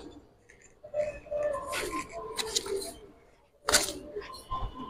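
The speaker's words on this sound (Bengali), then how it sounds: "এটাও সিলভার বেজি কবুতর, মাদিটা বেজি কবুতর, নটটা সিলভার কবুতর" Silver pigeons coo softly in a loft amid rustling and bumps, with brief clattering bursts nearby.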